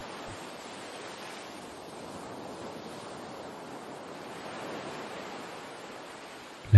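Sea waves washing onto a sandy beach with wind, a steady, soft broadband roar of surf and breeze with no distinct breakers, ending in a brief bump.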